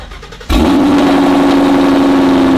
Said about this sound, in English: his car is probably like the loudest Mustang in Georgia, so let's get a nice little cold start